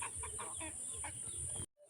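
Free-range desi chickens cluck in short bursts while eating grass, with a steady high electrical whine running underneath until the sound cuts off abruptly near the end.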